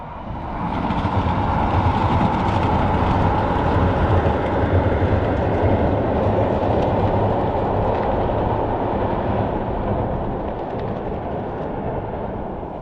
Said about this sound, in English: Here comes a train, that's what I'm showing you now.